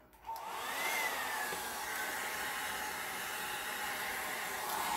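Hair dryer blowing on alcohol ink, switching on with a quick rise into a steady, airy whirring hiss that holds evenly at close range.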